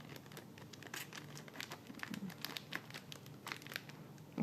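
Crinkly foil wrapping of a Modern Masters booster pack is peeled open carefully, a close, quiet run of crackles and small tearing bursts with no talk.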